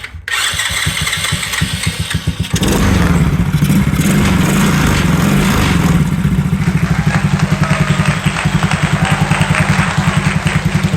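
A Chinese 110cc ATV engine with a new spark plug and CDI cranks briefly, catches and settles into a loud, steady, rapidly pulsing idle close by, with no talking.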